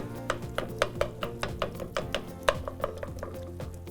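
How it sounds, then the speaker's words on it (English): A mix and chop tool repeatedly pressing through canned diced tomatoes in a pot, a steady series of quick clicking, scraping chops at a close, moderate level with no talk. "So I'm going to use my mix and chop to get these tomatoes chopped up a little bit."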